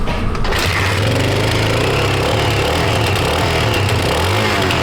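A 1980s Honda XL600R motorcycle engine with a rusty silencer runs loud and close, holding a steady, rough throbbing drone with a few subtle swells in revs for the whole stretch, with no talking.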